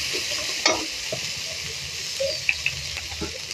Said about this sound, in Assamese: এয়া ভালদৰে মই মিক্স কৰি লৈছোঁ।